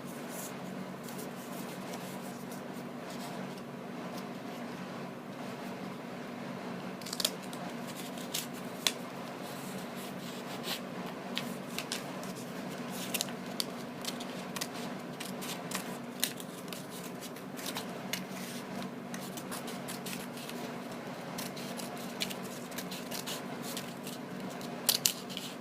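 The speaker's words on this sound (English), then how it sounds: "Start cutting along this line here." Scissors cut along a line on a sheet of paper, producing faint, irregular snips and soft crisp rustles over a low steady background hum.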